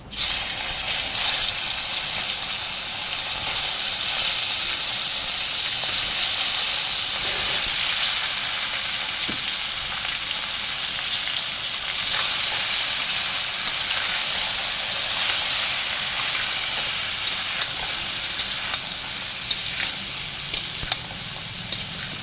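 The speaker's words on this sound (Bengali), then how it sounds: "এবার ফুলকপিগুলোকে আমি হালকা ফ্রাই করে নেব।" Cauliflower florets fry with salt and turmeric in mustard oil in a wok, giving a steady, loud sizzle with hissing steam that holds throughout without a break, and no one speaks over it.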